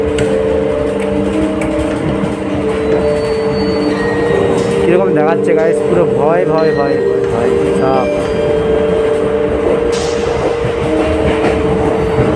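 Last local passenger train on the Jhargram line running with a steady rumble and rattling carriages, a continuous close noise throughout, while someone talks excitedly over it.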